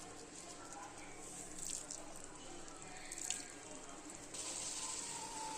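A little water is poured into a pumpkin stir fry, making a faint running, splashing sound in a quiet kitchen.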